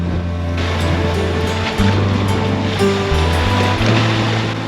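Choppy Chesapeake Bay waves slap against a sailboat under heavy wind, a loud, steady rush of water and gusts with low droning tones beneath, no talking.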